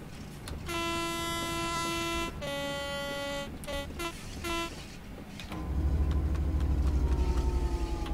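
A Class 66 diesel locomotive in Train Sim World 3 sounds a series of sharp horn blasts, then the engine revs up into a loud, throbbing low rumble.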